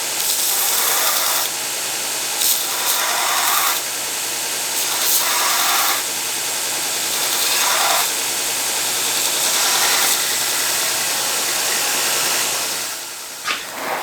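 Angle grinder removing a welded-on piece from the tang of a damaged WWII knife, a steady loud hissing grind that runs throughout with brief bursts where the wheel bites harder, no voices.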